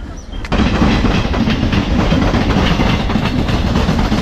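A train rolls into a station, a loud rumbling rush with steady clickety-clack of wheels that swells up suddenly after a quieter start and stays close and continuous.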